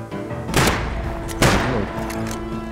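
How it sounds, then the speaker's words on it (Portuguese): Two gunshots in the video game Rust, a pair of sharp reports spaced about a second apart with a rumbling tail, heard fairly close over a low background hum. "Dois tiros, os caras não caíram"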